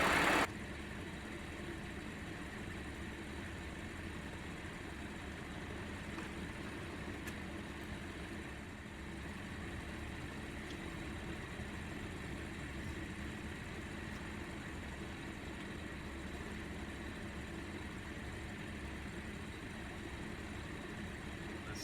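An Audi S4 runs steadily at low idle-like engine drone while being driven around the block, a continuous muffled rumble with faint road noise and no talking.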